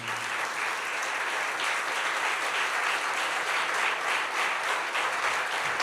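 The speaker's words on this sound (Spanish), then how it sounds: "¿Quiere dar un aplauso al Señor, hermano, en esta mañana?" Members of a morning church congregation applaud in a dense, continuous burst of clapping that stays loud and even throughout.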